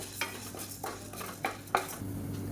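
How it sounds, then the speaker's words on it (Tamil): Chana dal roasting in a little oil over a medium flame while getting stirred, a soft steady sizzle with a few close spoon scrapes against the pan. "இதையும் சேர்த்து நல்லா வறுத்துக்கலாம் மீடியமான ஃப்ளேமில் வறுத்துக்கோங்க"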